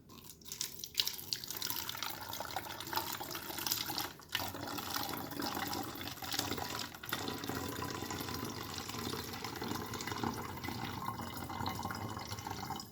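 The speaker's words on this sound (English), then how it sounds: "I'm going to pour some vinegar in here." Vinegar pours into a plastic bottle, a steady close liquid gurgle and splash running for several seconds with a few brief knocks.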